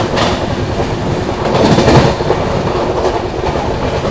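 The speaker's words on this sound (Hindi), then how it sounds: "यहाँ पर पता नहीं कोई ट्रेन को ओवरटेक कर दिया अपनी स्पेशल हमसफर ने" Amritsar–Jaynagar Humsafar special train on the move, a dense, steady rumble with rhythmic clickety-clack of wheels over rail joints, swelling briefly in the middle, with no voices.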